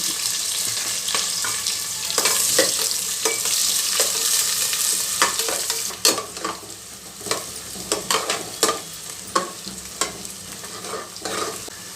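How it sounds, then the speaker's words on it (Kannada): Onion and garlic fry in hot oil in a pan for mint pulao, a loud continuous sizzle with repeated stirring scrapes and clacks of a spatula, growing more rhythmic in the second half, close up. "ನೋಡಿ ಈರುಳ್ಳಿ ಎಲ್ಲ ಚೆನ್ನಾಗಿ ಫ್ರೈ ಆಗಬೇಕು"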